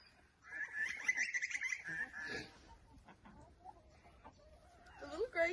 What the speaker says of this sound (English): The little grey chickens are my favourite